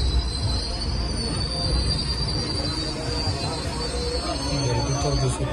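Mandovi Express on the Konkan Railway, wheels squealing steadily with a sustained high metallic screech over continuous loud rolling rumble, the train near and no voices over it.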